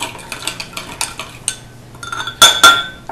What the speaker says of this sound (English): Let's say that's the sugar, and then we stir. Mix it all up, mix.